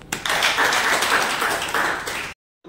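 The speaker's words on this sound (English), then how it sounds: "Please clap for both." Steady applause from a class of students, dense overlapping claps lasting about two seconds, then cutting off abruptly.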